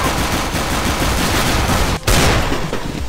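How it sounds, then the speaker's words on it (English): Rapid automatic gunfire from the CS:GO shooter game, a loud continuous burst that runs almost unbroken for about three seconds, with one brief gap near the two-second mark. "I'm actually shooting you"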